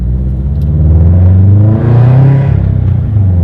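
A supercharged Nissan 350Z engine runs loud and steady, a deep low rumble with a swelling, revving rise near the middle, heard close with no talking.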